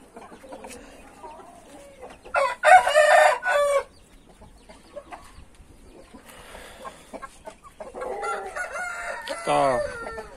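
A tame silver rooster crows loudly in two bursts, with softer clucking and quiet gaps between them, heard up close.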